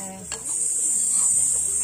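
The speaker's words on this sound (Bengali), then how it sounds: "তেলটা গরম করে নাও তাড়াতাড়ি। হ্যাঁ, এবার জামরুলটা দিয়ে দাও।" Rose apples (jamrul) going into hot oil, with a steady, fairly close hiss of sizzling that rises after a brief voice at the start and carries on evenly.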